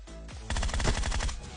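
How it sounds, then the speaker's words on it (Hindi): Rapid automatic gunfire in the mobile game PUBG Mobile, a loud, close burst of fast repeating shots after a brief lead-in, with no talking. "भाई दूसरा बंदा कवर फायर देता है"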